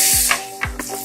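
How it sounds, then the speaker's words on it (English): Whole garlic cloves sizzle in hot butter, a constant frying hiss broken by a few quick stirring scrapes and soft pops. "Roast the garlic until it is golden brown."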